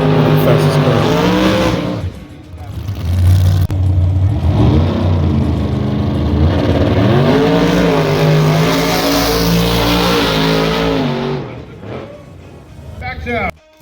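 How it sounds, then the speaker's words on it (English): A Chevelle big-block drag car makes a test pass at a dragstrip, its engine revving loud and rising through repeated gear pulls, then fading, with crowd and voices in the background. "Here's a test pass from a Chevelle road charge big block."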